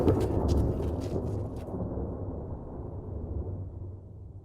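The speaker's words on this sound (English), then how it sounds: "The storm's coming on." A thunderstorm closing in, heard as a deep, continuous rumble of thunder that swells at the start and slowly rolls away, with a rushing, rain-like wash over it and no voices.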